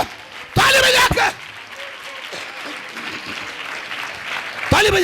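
A congregation at an annual prayer festival in Rajasthan claps hands in two loud, dense bursts, one early and one at the very end, with a voice sounding in the quieter stretch between.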